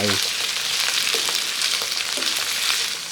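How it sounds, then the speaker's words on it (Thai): Roselle stir-fried in hot oil in a pan, giving a loud, steady sizzle and crackle with a few scraping stirs, close up and continuous with no talking. "พอน้ำมันเริ่มร้อนนะครับ ใส่กระเจี๊ยบ เราจะเริ่มผัดกระเจี๊ยบนะครับ"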